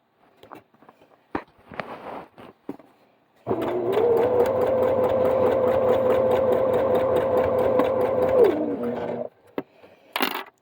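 A Babylock sewing machine fitted with an off-brand cording foot stitches piping in one steady run of several seconds, with a whirring motor and a rapid needle clatter. Shorter taps and handling noises come before and after.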